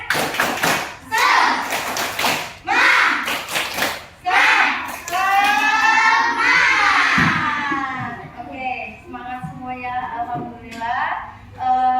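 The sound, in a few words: children doing a rhythmic clapping chant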